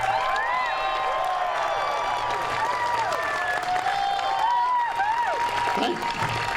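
Large rally audience applauding and cheering to welcome Daniel Ellsberg, a steady dense wash of clapping with whoops and shouts rising through it, loud and continuous throughout.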